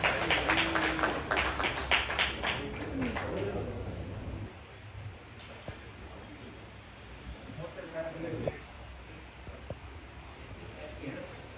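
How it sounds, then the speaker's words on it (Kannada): Audience applause at a felicitation ceremony: a dense burst of clapping for roughly four seconds that then dies away, leaving quieter room sound with a voice speaking. "ಪ್ರೀತಿಯ ಚಪ್ಪಾಳೆಗಳ ಮೂಲಕ ಅಭಿನಂದಿಸೋಣ"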